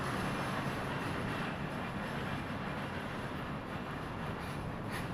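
A train passes in Tokyo, a steady loud rumbling wash of wheels and rolling stock close by, continuous for several seconds with no talk.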